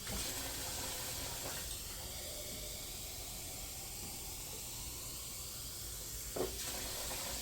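Water runs steadily into a canning pot, filling it deep enough to submerge jars, giving a constant rushing hiss with a brief splash near the end.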